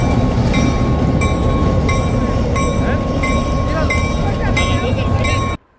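A locomotive at the Tennessee Valley Railroad Museum in Chattanooga rumbles steadily past with rhythmic clicking from the rails and a low continuous roar, loud and close, ending abruptly.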